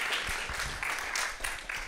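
Conference audience at a World Water Week session for the Americas gives a brief, steady round of applause, moderately loud and continuous for about two seconds.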